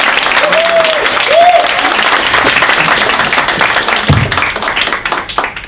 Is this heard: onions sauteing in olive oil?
no